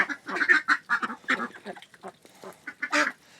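Muscovy ducks quack in quick, uneven bursts, several birds calling close by with brief pauses between the raspy calls.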